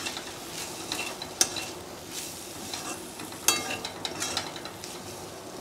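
Ginger garlic paste with chili powder and turmeric frying in a pan for mushroom masala, a steady sizzle under a spatula stirring and scraping, with a couple of sharper clinks of utensil against the pan.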